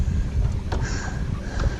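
Strong wind blowing across a pond on a cold 44-degree day, a steady rushing roar buffeting the microphone with no talk.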